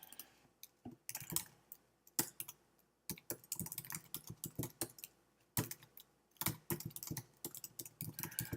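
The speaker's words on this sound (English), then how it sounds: "I'll go ahead and type that" Rapid bursts of typing on a computer keyboard, with close, crisp key clicks in uneven runs and short pauses between them, as details are entered for an event.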